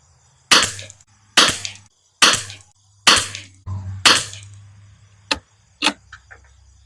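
Rifle fitted with a heavy barrel tuner firing a string of sharp shots, five evenly spaced loud cracks followed by two fainter reports, each decaying quickly, with no voices.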